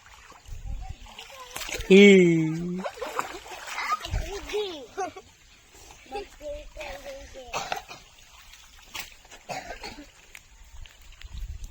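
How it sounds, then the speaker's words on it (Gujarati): Small children playing in water, with splashes and sloshing mixed among their shouts and chatter, and other voices talking nearby. "જો નાના નાના છોકરા કેવા પાણીમાં રમે છે"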